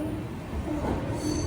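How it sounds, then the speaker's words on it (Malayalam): Amrit Bharat Express sleeper train pulling into Tiruchirappalli Junction, a steady low rumble of rolling rail cars with faint higher squeal toward the end, continuous and fairly close, no talk. "ട്രെയിൻ ഇതാ തിരുച്ചിറപ്പള്ളി ജംഗ്ഷനിലേക്ക് എത്തുകയാണ്"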